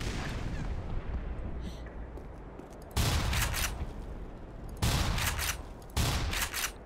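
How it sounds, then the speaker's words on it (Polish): Rapid bursts of automatic gunfire from a hostile turret in the shooter Black Mesa, three loud volleys separated by short pauses over a low rumbling game backdrop. "Działko? Nie wiem, czy ono tu celuje we mnie, czy nie."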